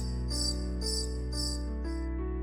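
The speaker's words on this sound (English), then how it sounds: "crickets." Crickets chirp in four evenly spaced bursts over a low steady hum, a short stock sound-effect clip with no voices.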